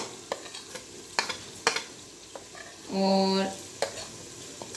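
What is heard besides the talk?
garlic, ginger and onion frying with turmeric and salt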